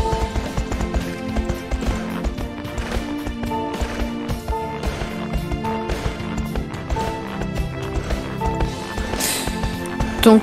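A horse galloping in the computer game Grand Galop, a steady drumming hoofbeat rhythm under continuous game music, loud and evenly paced throughout.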